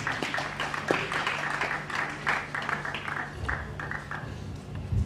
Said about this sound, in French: On peut applaudir pour les amis.